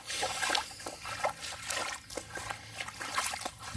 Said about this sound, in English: I'm walking through water here.